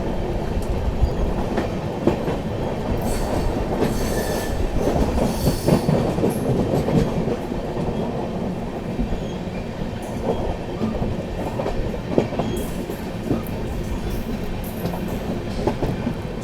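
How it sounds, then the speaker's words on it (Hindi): The Purushottam Express, Anand Vihar to Puri, rolls into Gomo railway station with a loud, steady rumble of coaches, rhythmic wheel clatter and intermittent squeals from the wheels. "यहाँ पर जो है अपनी पुरुषोत्तम express Gomo railway station arrive कर रही है"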